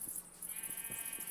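Sheep bleating in the video game Minecraft: several short, soft bleats spaced across a second or so, over a steady background hum.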